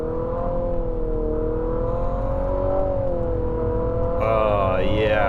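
A 2022 Infiniti QX55 with a CVT accelerates in sport mode, its engine holding a steady, droning rev that rises slowly under a faint whir, with a brief tonal shift near the end.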